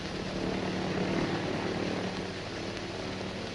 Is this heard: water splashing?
no